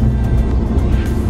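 Car interior while driving back home: a dense, steady low rumble of road and engine noise filling the cabin, with no talk, only faint brief ticks above the drone.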